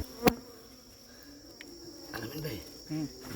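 Bees collecting honey from a hive in a garden give a steady, faint buzzing hum, with a sharp knock near the start and brief murmurs of voices late in the clip.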